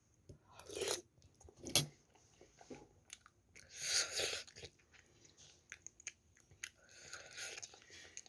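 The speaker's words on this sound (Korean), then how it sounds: "자 이거 한점 떠서 먹어볼게요" Close, wet chewing and biting while eating curry with green onion kimchi, with several louder crunchy bites and soft mouth sounds in between, no talking.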